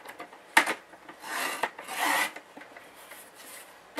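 A Stampin' Up paper trimmer cuts a card corner, giving short close scraping and rasping strokes of the blade sliding across cardstock, quiet and alone with no talking.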